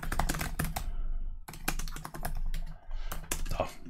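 Keys clatter on a computer keyboard as code is typed in Visual Studio Code, coming in quick bursts of close, crisp clicks with brief pauses between them.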